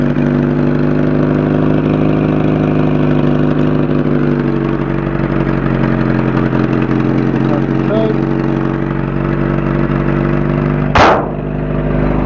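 A Geo Tracker engine idling steadily with the hood closed, a continuous mid-pitched hum with a strong low drone, heard from close by for the whole stretch, with one brief sharp knock near the end.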